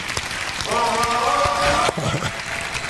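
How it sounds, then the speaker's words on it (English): Audience applause in a large hall at a motivational talk, steady dense clapping like rain heard at a distance, with a sustained tone and brief voices mixed in. "So I thank you for your applause."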